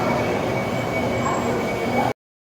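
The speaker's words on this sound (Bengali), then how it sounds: "ট্রেন আমার চলে এসেছে উঠে পড়েছি আমি ট্রেনে আমার মেট্রোতে" A Kolkata metro train bound for Dum Dum at a station gives a steady, loud rumble of wheels and carriage noise with voices mixed in, then cuts off abruptly.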